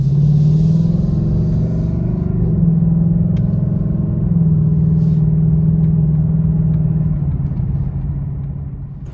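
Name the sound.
2020 Ford Mustang GT 5-liter exhaust, Sports Plus mode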